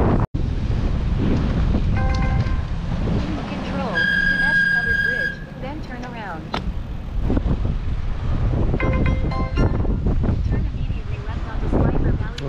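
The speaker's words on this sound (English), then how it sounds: "the headwinds kind of make it the worst" Strong headwind buffeting a cyclist riding a 200 km randonneuring brevet over open ridges, a steady loud roar of wind across the microphone, with brief tonal squeaks and a few spoken words mixed in.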